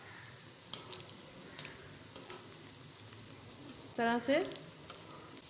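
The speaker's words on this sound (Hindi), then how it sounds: "जब ये एक तरफ से थोड़ी सी गोल्डन सी फ्राई हो जाएंगी फिर हम साइड चेंज करेंगे" Chana dal mangochiyan frying in hot oil, a soft steady sizzle with a few brief spoon or pan clinks and a short stirring scrape near the end, close by, while a person speaks briefly.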